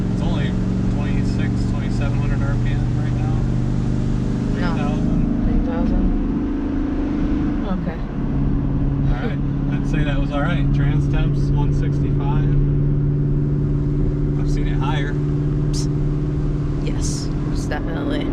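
Vehicle engine laboring steadily uphill while towing a trailer loaded with about 8,000 pounds of stone, a constant loud drone with rising revs, and people talking quietly over it.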